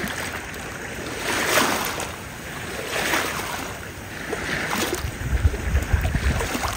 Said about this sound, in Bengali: পানির এই শব্দগুলো অনেক ভালো লাগে আমার।